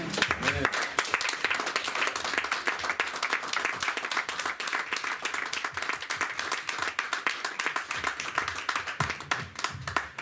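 A church congregation applauds and acclaims: dense, steady clapping runs throughout at a lively, even pace, with voices calling out beneath it.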